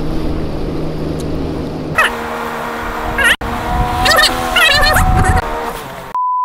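A Sea-Doo jet ski speeds up and turns on the water, its engine droning and surging under spray and splashing, while someone talks over it in Korean before it cuts off abruptly.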